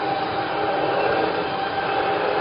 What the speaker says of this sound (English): there's the next tram.